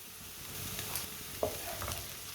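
Whole cumin and coriander seeds roast in a pan with a soft, steady sizzle, broken by a few faint crackles and stirring scrapes.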